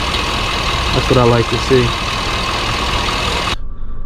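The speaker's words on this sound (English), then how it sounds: "Just letting you guys see how smooth it's idling." A Chevrolet Avalanche 5.3L V8 idles smoothly and steadily, with someone talking briefly over the engine before the sound cuts off.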